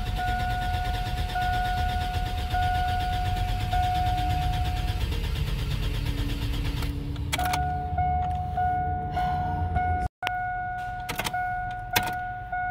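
Truck engine idling roughly on bad fuel, a steady low rumble under a chiming warning tone, then a cut-out and sharp clicks as the engine stumbles and is keyed again.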